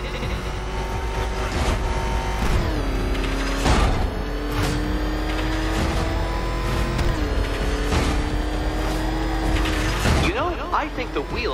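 Mechanical cranking and ratcheting from a pressure machine the Riddler winds up in Batman: Arkham Knight, with rhythmic clanks and gear sounds running steadily under a voice and game effects.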